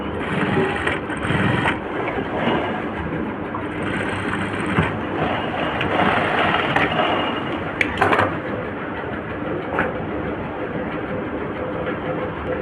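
A sewing machine stitches a side joint border on fabric, running as a continuous, fairly loud mechanical whir and rattle with slight surges over about thirteen seconds.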